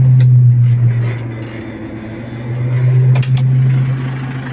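A tractor engine drones steadily with a deep, low hum while harrowing soft field soil, holding an even level throughout with a few faint clanks near the end.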